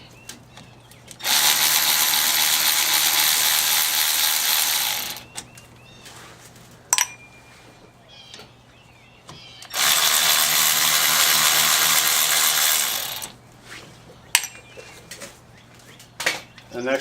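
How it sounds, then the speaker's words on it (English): A ratchet spins off the caliper bracket nuts on a 2001 Honda CR-V during a brake pad and rotor job, two loud sustained bursts of rapid clicking separated by quieter handling and small metallic knocks. "and we're going to remove these nuts right here"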